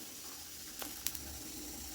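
Coconut oil heats in a kadai for tempering, giving a faint, steady sizzle with a few brief crackling pops partway through.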